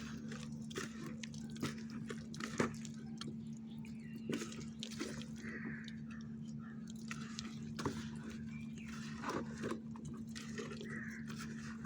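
Hands knead mashed banana together with jaggery, producing wet squelches and sticky squishes in an irregular rhythm over a low, steady hum close by.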